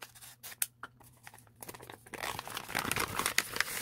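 A gift wrapped in tofu-print wrapping paper is torn open up close: a few sharp paper crinkles come first, then a sustained rustle and rip.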